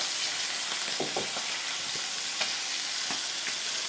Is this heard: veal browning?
yes